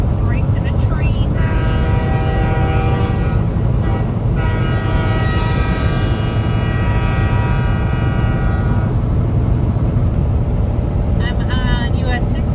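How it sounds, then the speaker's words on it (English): Freight train running alongside a truck on US 6 westbound in Nebraska, a steady loud rumble with sustained horn-like tones swelling in the middle, heard from inside the moving cab with the truck's own road noise throughout. "Racing a train."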